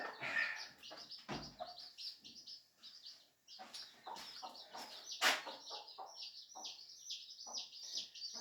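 Mother hens and their chicks make a busy mix of soft clucks and repeated high chirps close by, with overlapping peeps throughout and an occasional louder call.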